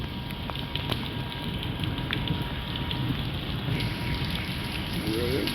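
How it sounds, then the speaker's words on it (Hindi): Steady, dense rain hiss fills the whole stretch, a constant heavy downpour with faint low rumbling underneath, as floodwater fills a street and reaches houses. "इतनी बारिश नहीं हुई कभी भी कि ये पानी अब बिल्कुल घरों के अंदर जाने की कोशिश कर रहा है"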